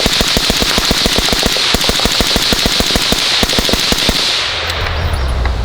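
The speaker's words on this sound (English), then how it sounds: "I'm gonna go ahead and dump 28 rounds as fast as I can" MCX Spear LT or AR-15 rifle dumping 28 rounds as fast as possible: a rapid, evenly spaced string of loud, sharp gunshots that stops abruptly, leaving a brief quiet tail.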